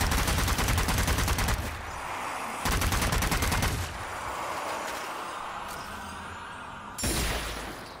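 Rapid automatic gunfire from a zombie shooter video game rattles in loud sustained bursts, with short quieter gaps of lingering rumble between volleys.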